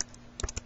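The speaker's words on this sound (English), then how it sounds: "I'm going to enter my usual password and my email." Quick light keystrokes on a computer keyboard, a short burst of four or five clicks in an uneven rhythm after a quiet pause, close and soft.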